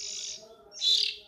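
Kacer birds, oriental magpie-robins, in a breeding aviary give two bright, clear chirps, the second louder and closer, over a faint low hum.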